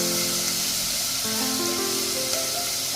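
Finely chopped onion fries in hot oil alongside slit green chilies, a steady broadband sizzle at moderate loudness with a few faint tonal hums running beneath it.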